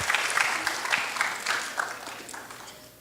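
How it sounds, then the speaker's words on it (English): A student audience applauding in a school gathering, brisk crowded clapping that starts strong and tapers off gradually over about three seconds. "So let's give a round of applause to our brave,"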